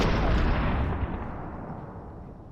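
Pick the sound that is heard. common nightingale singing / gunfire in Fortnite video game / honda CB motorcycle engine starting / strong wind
gunfire in Fortnite video game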